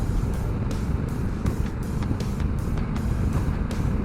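Honda Africa Twin CRF1100L DCT motorcycle accelerating in drive mode, its engine drone broken by several quick, evenly spaced gear changes, each a brief dip and surge in a steady loud roar with wind rush.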